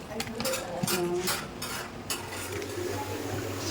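Prawns sizzle in a pan while a utensil scrapes and clinks against the metal as they are stirred, a close, steady frying sound with a few sharper knocks and no talk.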